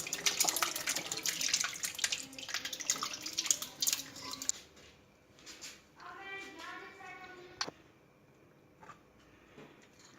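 Tamarind and plum liquid pours and trickles through a sieve into a bowl, a loud splashing stream for the first few seconds and then softer drips and dribbles, for a homemade tamarind and plum sharbat.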